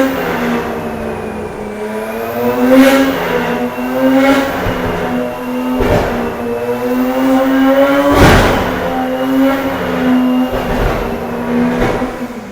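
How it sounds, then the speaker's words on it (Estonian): A turbocharged car engine revs repeatedly with sharp rising bursts over a steady idle, with loud, close blips recurring every couple of seconds. "Kuulame vahepeal Turbo Sounds."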